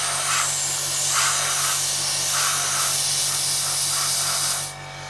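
An airbrush sprays paint onto a Trumpeter 1/32 AV-8B Harrier scale model, a steady close hiss holding for several seconds with brief pulsing surges, then cutting off near the end.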